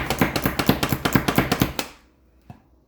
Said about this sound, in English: I just chopped up that onion that fast